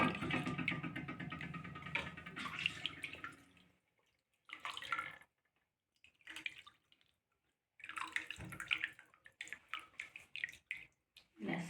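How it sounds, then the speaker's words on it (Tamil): Cooking water from boiling is poured into a pot of pumpkin soup in a few separate splashing, trickling bursts with short silences between them, close and fairly quiet. "நம்ம இன்னும் கொஞ்சம் தண்ணி இதில் ஆட் பண்ணிக்கலாம்"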